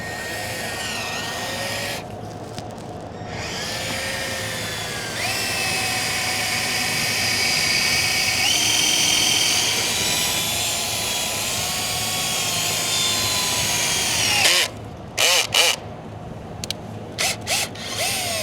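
A power drill whines steadily for a long stretch, drilling out a broken EGR bolt on a Ford 6.7 diesel engine, its pitch shifting slightly under load, then stops and starts in short bursts near the end.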